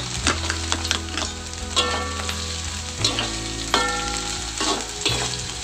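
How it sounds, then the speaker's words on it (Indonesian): Tempeh stir-fried with shallots and garlic in a pan, a crackling sizzle under repeated scraping and knocking of a utensil against the pan in uneven strokes, close and fairly loud, with no talk. "Kemudian aduk dan gongso-gongso sampai baunya harum."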